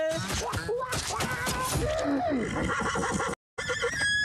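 A cartoon horse whinnies in a lively Oggy animated scene, the neigh rising and falling over busy music and effects, followed by a brief silent gap and more sound.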